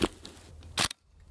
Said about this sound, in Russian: «Винторез» — бесшумное оружие. Звук выстрела можно различить только в полной тишине.